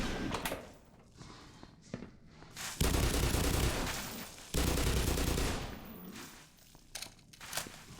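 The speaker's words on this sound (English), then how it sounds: "why is that bull squid still shooting at me?" Combat in the video game Black Mesa with bullsquids attacking: bursts of gunfire and heavy impacts, including two long loud roaring stretches, mixed with clatter and thumps, close and dense, no speech.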